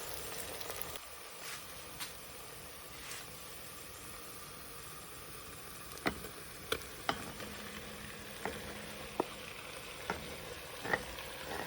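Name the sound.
meat chunks sizzling in frying onion and garlic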